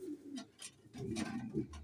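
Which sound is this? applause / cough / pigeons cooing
pigeons cooing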